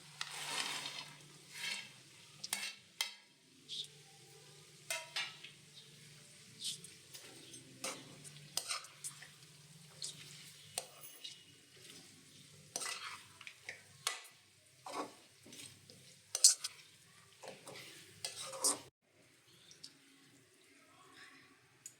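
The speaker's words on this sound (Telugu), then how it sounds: "ఇందాక వేయించుకున్న చికెన్ ముక్కల్ని నూనెలో వేయాలి" Fried chicken pieces stirred in oil for a homemade chicken pickle: soft sizzling under scattered clinks and scrapes of a spoon against the pan, faint and intermittent throughout.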